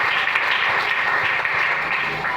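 A church congregation applauds the Lord, a dense, steady roar of many hands clapping together that fills the room for the whole stretch, with no clear talk over it.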